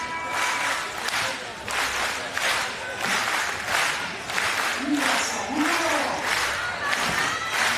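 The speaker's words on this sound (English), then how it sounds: "Crowd getting into it." A basketball crowd at a FIBA 3x3 Women's World Cup semi-final between China and Australia cheers and claps loudly and steadily throughout, a dense roar with rhythmic swells and occasional whistles or shouts.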